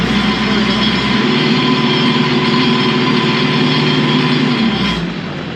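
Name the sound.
Kioti RX7320PB tractor engine running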